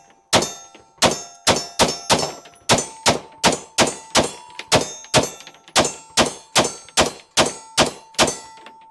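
A Staccato XC 2011 pistol fired in a rapid string of around twenty shots, each a loud ringing clang of steel targets being struck, evenly paced with brief gaps, close and sharp with no talk.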